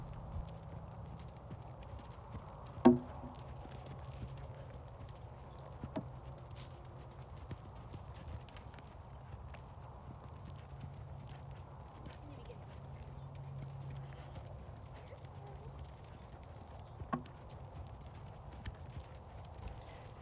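A horse walks over wagon-wheel ground poles under a rider, its hooves giving faint, sparse, distant clip-clop thuds with one sharper knock against a pole, over a quiet background.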